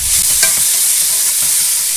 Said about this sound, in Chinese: 加入醃好的雞片，大火炒兩分鐘